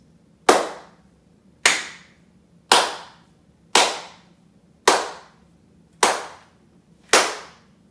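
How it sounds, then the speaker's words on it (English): Seven sharp single hand claps, evenly spaced about a second apart, each ringing out with a short decaying tail in a room treated with acoustic foam, tested for echo. "we'll also do a clap test, so that will give us a chance to see how much echo still resonates"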